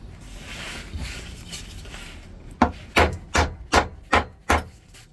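A knife batoned into a wooden stick to make stop cuts: after soft rubbing and scraping, six sharp, evenly spaced wooden knocks ring out close by.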